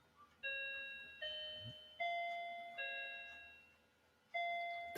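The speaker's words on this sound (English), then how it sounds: "the bells are chiming." Bells of Nazareth chime in a slow sequence of clear ringing tones, each struck note decaying before the next, five strikes over a few seconds, soft and somewhat distant with no talking.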